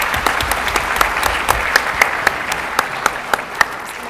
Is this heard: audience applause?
yes